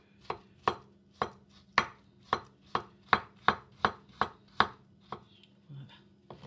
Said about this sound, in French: Je vais la couper aussi un petit dé